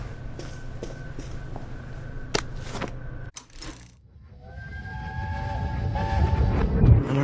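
A steam train in the video game We Happy Few passes by, a steady mechanical rumble with a brief whistle-like tone, a sharp cutoff, then a rising rolling clatter that grows louder toward the end.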